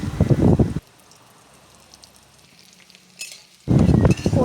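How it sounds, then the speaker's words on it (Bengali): Eggplant pieces frying in oil for vegetable khichuri, a faint steady sizzle with a brief stir midway, framed by loud talk at the start and end. "এবার বেগুনগুলো ভালো করে ভেজে নিলেন।"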